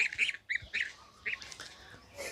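Ducks quack in a quick series of nasal calls, about six bursts close by at a bird market in Kolkata, then quieter rustling noises.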